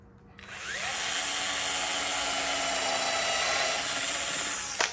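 Power drill driving screws into the wood of a handmade fruit stand, a close, steady whirring whine that holds for about four seconds and then stops with a brief clunk.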